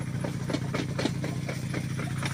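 A mini excavator engine runs at a steady idle, a low, continuous mid-pitched drone with faint rhythmic knocking while it pushes sandy soil outdoors, heard alone without speech.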